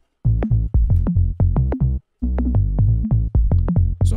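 Layered sub boom bass and deep walker bass play a bouncing pattern of short, punchy low notes in FL Studio, with a brief pause midway before the rhythm resumes, clear and alone.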